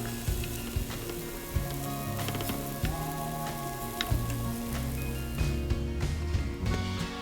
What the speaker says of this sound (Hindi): अब दूसरा बैच भी हम फ्राई कर लेंगे